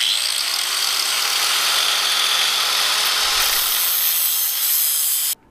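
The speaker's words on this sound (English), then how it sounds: "We got the grinder and cut them in half." An angle grinder cuts an oil filter in half, a loud, continuous high-pitched metallic grinding whine that holds steady for several seconds and then stops abruptly.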